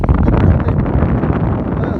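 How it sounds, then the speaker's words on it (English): Strong coastal wind gusts of around 40 mph buffet the microphone with a loud, continuous low roar that swells and dips throughout. "It's only 40 mile an hour gust."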